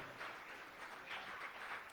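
A church congregation applauds during a sermon, a soft, distant wash of clapping that swells and fades over two seconds, with no voices on top.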